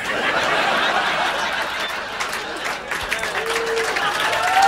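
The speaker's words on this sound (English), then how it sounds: "Get some applause on that CD" Comedy club audience applause with scattered chuckles at a stand-up show, a continuous crowd clap wash that swells slightly toward the end.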